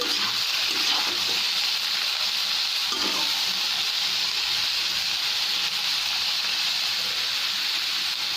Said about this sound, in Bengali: শাকটাকে আমি দিয়ে দেব দিয়ে ভালো করে পেঁয়াজ আর রসুনের সাথে মিশিয়ে নিচ্ছি